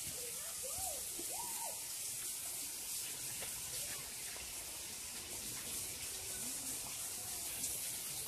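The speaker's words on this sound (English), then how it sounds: "Oh, the bigger waterfall's over there." Waterfall and stream flowing in Devils Den State Park, a steady, soft rushing wash of water heard from some distance, with occasional faint high calls above it.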